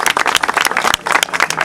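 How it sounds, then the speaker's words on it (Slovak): An audience applauds at a cross race award ceremony in Budimír, a brief burst of loud, dense hand clapping close by, with no speech over it. "Poprosím potlesk ešte raz."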